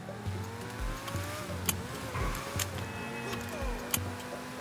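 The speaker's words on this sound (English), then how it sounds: "Now let's spawn a vehicle." A car engine in the FiveM game revs and surges, with steady low engine drone and several rising and falling throttle swells, plus a few sharp clicks, close and moderately loud with no talking.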